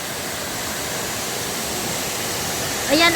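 Piumogna waterfall near Faido, Switzerland pours in a steady, dense roar of falling water, loud and unbroken, with a brief voice cutting in at the very end.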